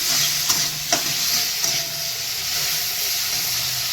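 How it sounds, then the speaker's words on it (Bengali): Sliced tomatoes fry with salt in a pan over a high flame, a dense, steady sizzle and hiss with a few soft stirring clicks near the start. "হাই হাই ফ্লেমে টমেটোটা ভাজতে হবে"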